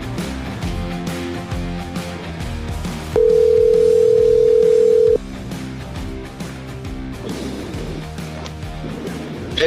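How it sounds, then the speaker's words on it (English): A telephone line sounds a steady electronic tone for about two seconds, loud and close, over busy background music and noise, as a call connects. "Get that phone ringing."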